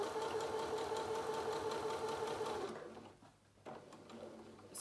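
A sewing machine runs steadily while stitching a fabric bucket, a fast continuous whirring hum for a few seconds, then it slows and stops briefly before starting again, quiet and close.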